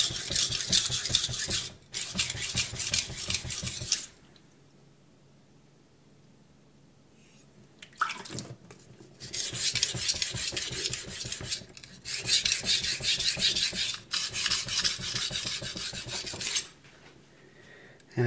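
A knife scrapes back and forth over a hard Shapton Pro whetstone in long, rhythmic raspy strokes, close and fairly loud, broken by a couple of quiet pauses between sets of passes.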